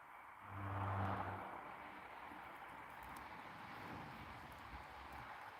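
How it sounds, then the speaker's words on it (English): Faint, distant traffic hums from a highway late at night, a soft steady whir with one slightly louder swell of a passing vehicle early on, low and far away. "Can you guys hear the cars on the highway?"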